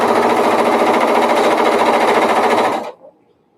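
Sewing machine stitching fabric, a loud, fast, steady mechanical whir up close that runs for nearly three seconds, then stops abruptly and leaves a faint trailing clunk before quiet.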